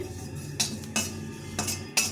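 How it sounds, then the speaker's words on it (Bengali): Scraping and clinking in a metal pan as cumin seeds dry roast, with a few sharp strokes of a utensil stirring against the pan, over a steady low hum. "তার জন্য জিরাটা ভেজে নিচ্ছি"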